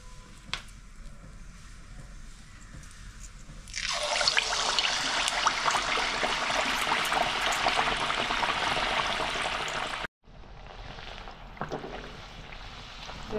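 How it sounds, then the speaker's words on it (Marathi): Vada batter dropped into hot oil, a loud, steady broadband sizzle that bursts up and holds, then briefly cuts out and returns somewhat quieter. "तर तेल आहे ना तापाय ठेवलेलं आहे, ते तापलेलं आहे. आता त्याच्यामध्ये आपण वडा सोडून घेऊया."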